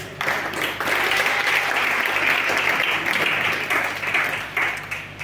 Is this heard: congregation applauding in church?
yes